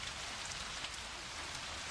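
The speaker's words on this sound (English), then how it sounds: "Head out into the rain." Steady, dense rainfall from the video game Pathologic, a constant hiss of rain hitting surfaces that stays fairly loud and even throughout.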